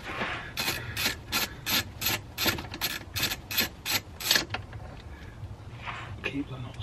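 A 13mm anti-roll bar bush bolt is undone on a BMW E87, a quick run of rapid ratchet clicks in close succession, then a pause and a final brief burst.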